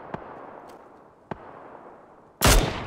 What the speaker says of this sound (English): there's the guy at the tree shooting